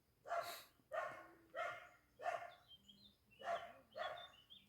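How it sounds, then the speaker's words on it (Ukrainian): A dog barks six times in a steady, evenly spaced series, each bark sharp and fairly close, with faint bird chirps in the background. "Вона ж чує, що мамка гавкає."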